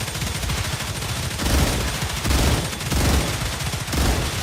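Dense, rapid automatic gunfire from StarRupture rattles continuously at close range, surging louder in several bursts with no gaps between shots.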